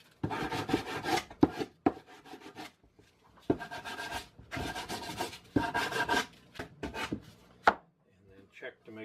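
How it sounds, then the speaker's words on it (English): Sandpaper rubbing the chiseled edges of wooden grooves on a board for an aquarium stand, several bursts of close, dry scraping strokes separated by short pauses. "hit them with a little sandpaper"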